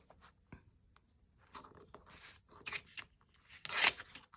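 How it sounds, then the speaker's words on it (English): Collage paper board being torn along a ruler for papercraft, a series of scratchy ripping and rasping strokes that build to a louder final tear, close and alone. "I'll just go ahead and rip it with the ruler."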